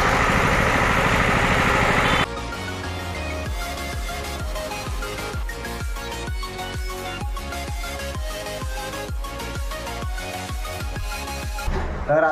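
A tractor engine runs close by, first as a dense roar and then settling into a rapid, steady chugging pulse that lasts throughout.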